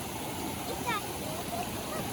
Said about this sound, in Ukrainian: Бачиш, тут тече річка.